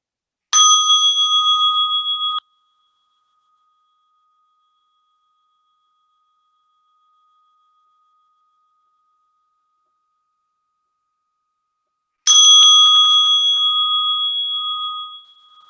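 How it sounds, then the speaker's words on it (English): A meditation bell rings out clearly twice, each clear metallic tone sustaining and slowly fading, with a long stretch of silence between the two strikes. "And kindly we bow to the bell,"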